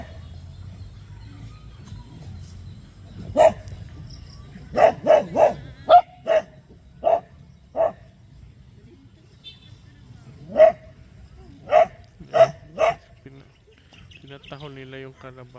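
A farm dog barks in a string of sharp, close barks, first in quick bursts and then more spaced, over a low rural background with birds chirping faintly.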